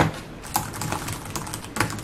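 Keys on a Lenovo ThinkPad X280 laptop are typed in quick succession, crisp close clicks with a few sharper accented strokes over a brief burst.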